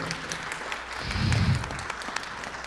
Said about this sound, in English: Once more round of applause for the little girl.